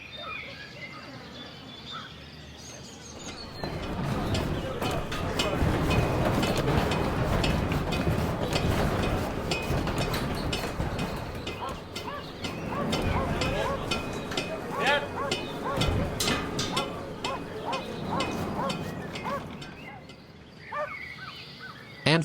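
A workshop ambience built in Unity with FMOD: a dense, busy bed of clattering, tapping and mechanical activity with scattered bird calls, steady and moderately loud throughout, fading in and out at the ends.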